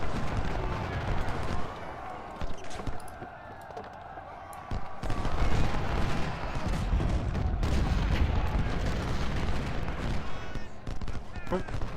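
Booming artillery volleys and scattered gunfire from Ultimate General: Civil War roll on in a dense, continuous battle din, with someone talking over the cannon fire.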